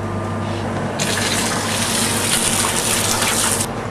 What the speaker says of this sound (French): J'ai rajouté 2 litres d'eau.